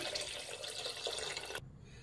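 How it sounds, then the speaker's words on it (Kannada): Half a litre of water pours steadily into a pressure cooker holding tomatoes and tamarind, a close, continuous splashing rush that stops abruptly near the end. "ಒಂದು ಅರ್ಧ ಲೀಟ್ರಷ್ಟು ನೀರು ಹಾಕ್ತಾ ಇದ್ದೀನಿ."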